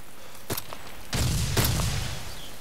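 Ground-to-air gunfire aimed at a helicopter in a realistic military simulator game, heard as two or three sharp cracks followed by a sustained rumbling boom, fairly distant with no voices.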